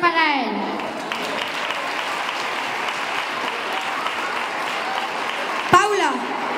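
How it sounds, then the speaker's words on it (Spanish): An audience applauds a flamenco guitarist at a school flamenco gala, steady clapping filling the room after a brief spoken line at the start, with a short burst of another voice near the end. "Un fuerte aplauso para él."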